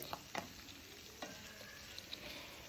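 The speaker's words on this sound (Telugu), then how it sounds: "ఆనియన్ క్యాప్సికమ్ కూడా ఇందులోనే వేసి లైట్గా ఫ్రై చేసుకోవాలి" Onion and capsicum frying lightly in a pan with urad dal, cumin, dried red chillies and curry leaves for a bitter gourd curry, a faint continuous sizzle with a few soft stirring clicks.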